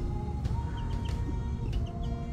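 Young chickens in a backyard chicken run cluck and chirp over a dense, continuous outdoor background with a steady tonal hum.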